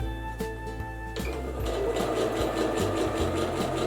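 A sewing machine stitches a table runner. A brief start-and-stop backstitch gives way to a steady, close mechanical whir with rhythmic needle clatter that runs on without pause.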